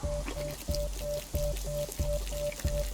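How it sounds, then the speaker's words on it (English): Water pours out of a canteen in the video game DayZ, a continuous splashing trickle with a steady repeating rhythmic pattern, moderately loud and alone. "Always remember, empty out that water."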